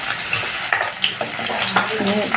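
Onions sizzle steadily in hot oil for a jackfruit curry, a loud, close, continuous frying hiss with occasional stirring scrapes.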